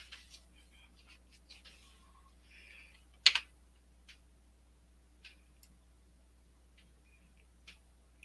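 Computer keyboard keys pressed on a desk during design work for a Cricut cutting machine, a few sparse, faint clicks spread out, with one sharper, louder tap near the middle and quiet pauses between.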